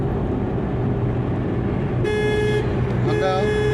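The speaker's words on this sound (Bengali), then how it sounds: "হর্ন দাও, হ্যাঁ আবার হর্ন দাও" Car horn honks twice during a driving lesson in traffic near New Barrackpore, two short bright blasts over a steady engine and road rumble, with a voice speaking.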